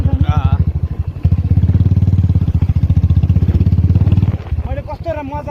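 A motorcycle ridden slowly through a city at night gives a steady, close, low engine drone with a quick rhythmic pulse. It runs for several seconds under ongoing talk, then fades as the speech continues.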